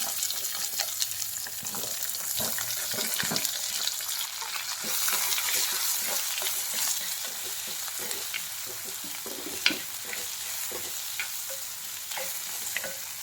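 Onions for a Kerala prawn theeyal curry sauté in a hot pan, a continuous close sizzle with frequent scraping stir strokes and occasional louder clinks.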